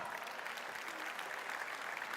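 An audience applauds guests at a debate on nursing autonomy, a dense, even roar of clapping that holds at a constant level throughout the short stretch without any talk.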